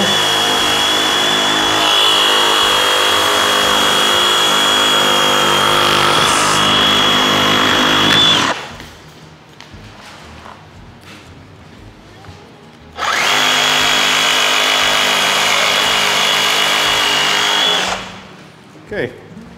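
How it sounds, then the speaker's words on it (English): DeWalt Sawzall reciprocating saw cutting through a beef forequarter in a butcher shop, a loud steady whine running for about eight seconds, a pause, then a second loud burst of sawing lasting about five seconds. "then you take your saw. We use our DeWalt Sawzall because it's for the shop use only."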